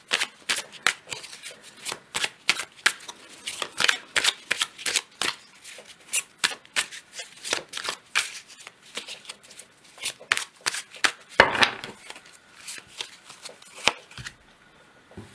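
A deck of cards is shuffled and drawn by hand, producing rapid bursts of crisp riffling and flicking slaps in an irregular rhythm, close and clear, with a brief louder rustle near the end.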